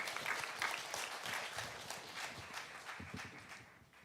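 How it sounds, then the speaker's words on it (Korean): Congregation at a Sunday church service applauding together after a prayer, a steady wash of many hands clapping that fades slightly toward the end. "우리 박수로 한번 크게 격려하겠습니다."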